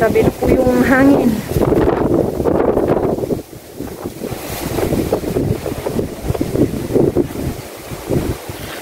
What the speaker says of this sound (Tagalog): Grabe na po yung hangin.